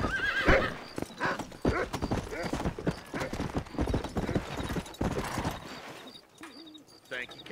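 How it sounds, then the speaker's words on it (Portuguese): A horse in the video game Red Dead Redemption clip-clops along with busy, overlapping hoofbeats and a loud neigh near the start. The game sounds are close and prominent, with brief voices mixed in. "Presta esse cavalo aí mesmo."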